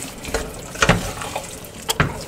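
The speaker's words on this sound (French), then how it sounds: "J'ajoute un peu d'eau." Water is poured into a pan of beans frying with potatoes, giving a few brief splashy bursts and sizzles against a quiet background.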